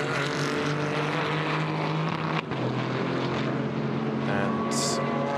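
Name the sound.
BMW GT4 race car at Nürburgring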